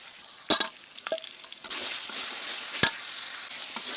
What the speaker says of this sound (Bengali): আমি এই যে সব মশলা একসঙ্গে নিয়ে নিয়েছি, কড়াইতে দিয়ে দেব।